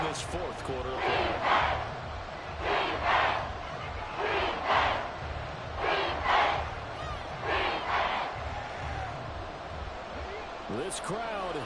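A football stadium crowd in the fourth quarter on third and goal roars in rhythmic surges, pulsing roughly every second or two. The sound is massed and distant, with a brief whistle-like tone near the end.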